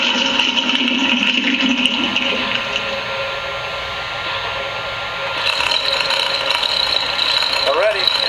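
An MTH RailKing O-scale model train taking on water, a steady hissing, splashing rush with a mechanical ratchety clatter, lasting several seconds and shifting in tone midway, with a brief squeaky chirp at the end.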